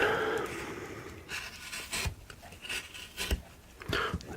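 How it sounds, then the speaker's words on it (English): A Swiss-made gouge scrapes and rasps through wood while a cowboy figure is carved, repeated rough rubbing strokes up close, uneven in rhythm, with no voices. "This is a Swiss made gouge."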